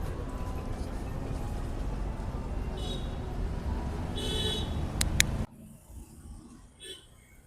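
Steady traffic roar on a busy main road, heard through a wireless mic with noise cancellation off, with passing vehicles and a couple of short horn toots before the noise suddenly drops to a much quieter hush.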